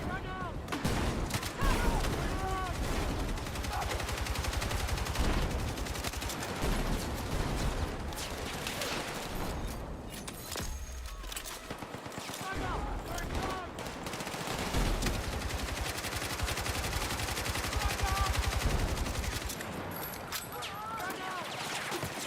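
Sustained machine gun fire hosing down a hallway in a video game, rapid bursts rattling almost continuously while someone talks over the shooting.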